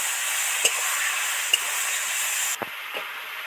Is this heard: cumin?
yes